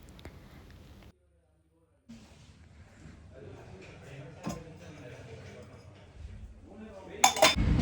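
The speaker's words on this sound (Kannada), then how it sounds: "ಪಾತ್ರೆ ವಾಶ್ ಮಾಡಿದ್ದೆಲ್ಲ ನೀಟಾಗೆಲ್ಲ ಜೋಡಿಸ್ಕೊಂಬಿಡ್ಬೇಕು" Washed dishes and utensils being arranged in a home kitchen in Bangalore, with scattered clinks and clatters of pots, plates and cutlery at moderate distance, a brief pause, then a louder clattering burst at the end.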